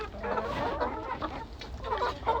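Several backyard chickens cluck and murmur continuously at close range. Their calls are soft and overlapping, over a low rumbling background.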